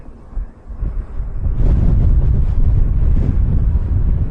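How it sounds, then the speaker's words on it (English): Wind rumbles against the microphone in the Atlas Mountains, quieter at first, then surging into a loud, sustained blustery roar. "it is quite windy here"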